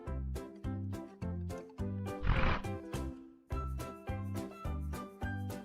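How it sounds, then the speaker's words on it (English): A hippopotamus gives a single short, breathy snort that bursts out briefly amid a bouncy, repeating music bed, with no talk. "I hear a hippopotamus snorting in my ear."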